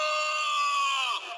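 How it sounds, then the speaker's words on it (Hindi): A king screams in terror as a frog leaps onto his neck, one long high-pitched sustained shriek that trails off at the end. "राजा चीख पड़े।"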